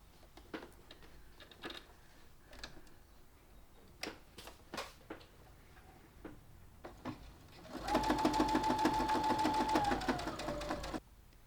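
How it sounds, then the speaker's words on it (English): A sewing machine runs in one steady three-second burst near the end, stitching binding tape strips into one long piece, after scattered soft clicks and handling of fabric; the whirring motor is close and clear, with no talking. "I'm going to sew along that line, and we'll have successfully connected our 3 strips together to create 1 long 3 meter long piece of binding tape"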